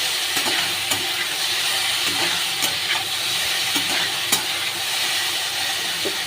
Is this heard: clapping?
no